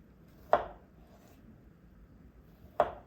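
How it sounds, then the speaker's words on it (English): A knife slicing through a kiwi fruit, heard as two sharp, close cuts roughly two seconds apart against a quiet background. "I cut in the corner with my knife and slice it like this way."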